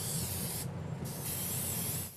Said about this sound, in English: Spraying your shoes with something called permethrin is one of the best line of defenses against ticks